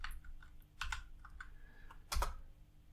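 Fingers tap out a quick burst of keystrokes on a computer keyboard while opening Linux terminals, clustered clacks close to the mic with no talk.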